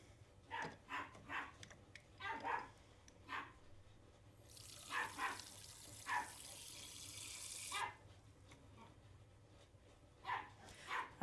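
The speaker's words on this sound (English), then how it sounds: "Get ready for the cutest little puppy temper tantrum you've ever heard." A puppy yips and whines in short, repeated bursts of a small temper tantrum, fairly faint, while a tap runs water into a sink for a few seconds midway.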